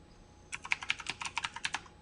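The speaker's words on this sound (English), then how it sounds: "I'm obviously typing in completely fake and wrong information here" Typing on a computer keyboard while entering a business address: a quick, close run of about a dozen crisp key clicks after a short quiet pause.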